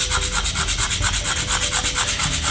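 Close, rhythmic sandpaper scraping on the metal end of a clogged gas stove regulator, with quick back-and-forth strokes repeating steadily several times a second.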